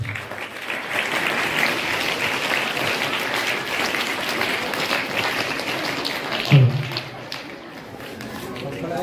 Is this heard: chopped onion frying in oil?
no